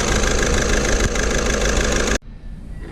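A Skoda Octavia with a P0201 injector fault runs loud and close with a rough, knocking idle, then cuts off abruptly, leaving a quiet, hushed background.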